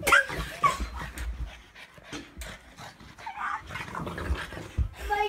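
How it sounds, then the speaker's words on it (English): A dog pants rapidly and whimpers while playing, with yips mixed into a busy, close, continuous stretch of breathy sounds. "Crazy dog."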